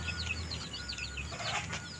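Several chickens cluck and chatter in overlapping bursts, fairly close, over a low steady rumble of background noise.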